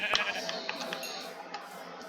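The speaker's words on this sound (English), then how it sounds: "Hey, look, a sheep." A sheep in the Minecraft video game bleats a few times, thin and moderately loud, with faint clicks scattered through the game sound.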